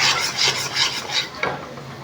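A thick gram flour laddu mixture is stirred in a pan in a regular rhythm, about six close rasping scrapes over a faint sizzle, with no voices.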